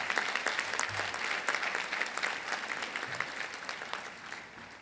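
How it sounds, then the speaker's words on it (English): Audience applauding after a disaster preparedness workshop talk, dense continuous clapping from a room full of people that holds steady for several seconds and then slowly fades. "another round of applause"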